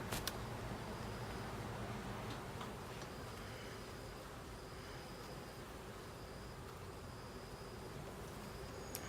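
Honey bees growing more active during a hive inspection, a low continuous buzzing hum with scattered faint clicks and taps throughout.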